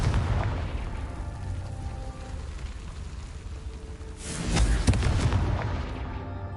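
Confringo blasting spell from Hogwarts Legacy, a video game, sets off a loud booming explosion over a dense rumbling game soundscape, with a burst swelling midway and then dying away.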